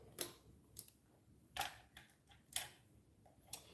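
Socket wrench spinning bolts loose on a car, heard as six short sharp clicking bursts spaced about half a second to a second apart, close and moderately quiet, with no talking.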